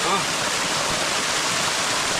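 Hidden waterfall at Maddur, falling hard and close by, giving a steady, loud broadband roar of rushing water without a break.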